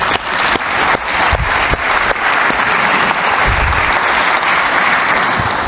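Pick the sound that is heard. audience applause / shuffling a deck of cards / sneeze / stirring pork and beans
audience applause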